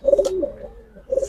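Pigeons cooing softly nearby, a couple of low burbling phrases separated by a short pause.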